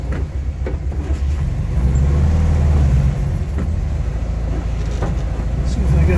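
The engine of a 1971 VW Type II bus drones steadily at low pitch on a wet day while the driver shifts gears, a close rumble with a person talking over it.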